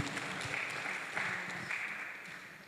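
A church congregation claps together in worship, a dense, steady patter of many hands with slight surges, heard from a moderate distance and without voices.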